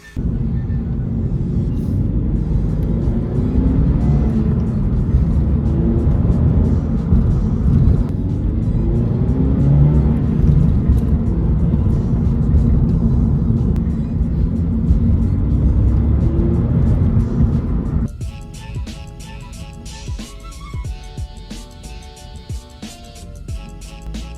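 A Subaru BRZ or Toyota GR86 fitted with an aftermarket exhaust drives around the block, giving a loud, close, steady engine drone for most of the clip before it drops to a quieter idle near the end.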